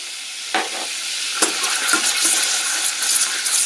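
Mushrooms, bacon and kale frying together in a pan give a steady, close hiss of sizzling, with a few louder stirring scrapes and pops breaking through the crackle.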